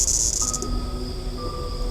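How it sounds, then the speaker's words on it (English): A cicada chirps in The Ghost Train video game, a thin steady buzzing drone with a brighter rasping burst at the start, sitting over faint tonal game ambience and sustained notes, moderately quiet. "Why is there a cicada on my screen?"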